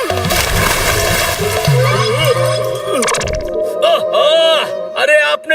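Water splashing onto someone in a cartoon: a loud, busy wash of splash and slosh with music and voices mixed throughout, followed by a quieter tail.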